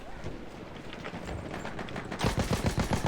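Rapid gunfire from the World War I shooter Battlefield 1, a steady patter of shots that swells into louder, denser bursts near the end, with no talk over it.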